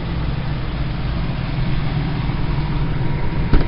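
A 2003 Ford F-150 extended-cab pickup with a 4.2-liter V6 idling close by, a steady low rumble that holds even for the whole stretch, with no voices.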